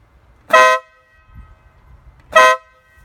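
Two loud, brassy blasts from a 130 dB air horn mounted on a Ural motorcycle, each under half a second and about two seconds apart, with quiet idle rumble between them.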